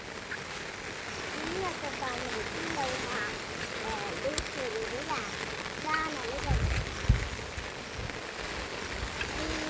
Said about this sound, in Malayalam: നല്ല മഴ നല്ല മഴ